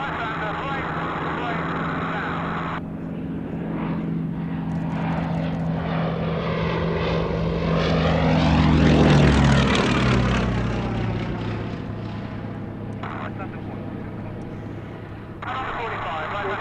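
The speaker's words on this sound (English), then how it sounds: "This all black aircraft has gone." All-black Westland Lysander propeller aircraft flying past, its engine drone swelling to a loud peak overhead and then fading away with a falling pitch, heard alone over steady background noise.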